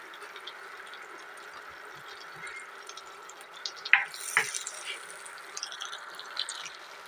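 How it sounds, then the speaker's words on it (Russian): Garlic frying in a mix of vegetable oil and butter in a well-heated pan gives a soft, steady sizzling hiss, with a couple of sharper crackles midway and no talking. "Чеснок немного обжарим."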